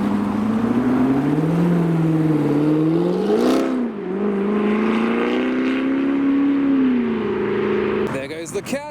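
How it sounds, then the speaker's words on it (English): A Jaguar Series 2 E-Type rolls past at a custom car meet, its engine note rising and falling as it approaches and recedes, with people talking over it and crowd noise around. "there goes the Series 2 E-Type"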